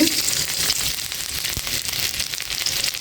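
Chopped ginger fries in a little oil, a steady close hiss and crackle of sizzling that continues evenly throughout, with no voices.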